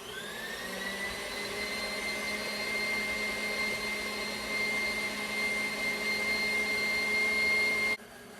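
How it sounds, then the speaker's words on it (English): Electric stand mixer whipping butter frosting for a malted chocolate cake, a steady loud whirring motor hum that runs unbroken for about eight seconds, then drops sharply in level at the end. "if you need to turn your mixer up a little bit to whip it up and incorporate it some more, feel free to do so"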